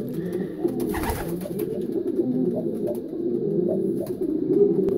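Racing pigeons coo in soft, low, repeated throaty calls, close by and continuous, with a brief rustle of wings or movement near the start.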